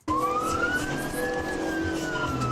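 A police car siren wails loud and close, one continuous rising and falling sweep over the rumble of the moving car, with no talk.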